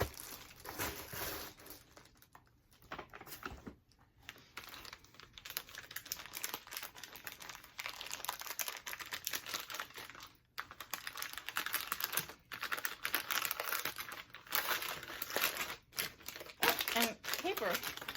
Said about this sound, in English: so now I have a gift to open from Jenn Marsh.